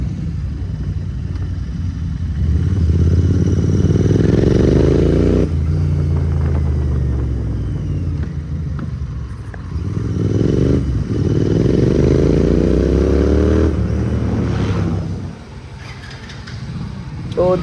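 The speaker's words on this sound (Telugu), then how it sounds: "రషీద్ది స్టేజ్ 2 కోడ్ 6 అనమాట బైక్." Royal Enfield GT 650 motorcycle engine on an open road from Hyderabad to Siddipet, a loud, close throaty rumble that rises and falls through repeated revving and gear changes, with a brief dip near the end.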